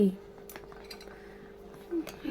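Light metallic scraping and clinks of a small spoon stirring cauliflower curry in a toy kitchen pot, a few brief taps spread over a couple of seconds at low volume, with faint talk in the background.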